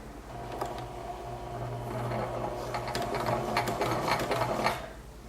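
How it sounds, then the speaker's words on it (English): A sewing machine runs forward stitches on a seam sample, a steady close mechanical whir with fast rattling needle strokes that builds over about five seconds, no voices. "I need to start with a back stitch. To do this, I start by doing 3 or 4 stitches forwards."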